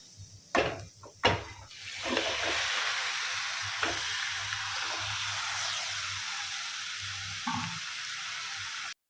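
Marinated chicken drops into hot oil with onions for a chicken kurma with whole spices, a few thuds and clatters first, then a steady, fairly loud frying sizzle that holds to the end with an occasional knock.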